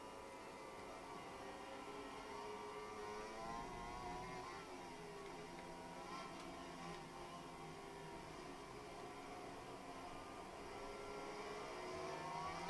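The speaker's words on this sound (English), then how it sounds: "engine sounds are often a little off because I'm using traction control" A faint, steady motorcycle engine whine from MotoGP '20 with traction control on, rising and falling gently in pitch as it revs, continuous throughout.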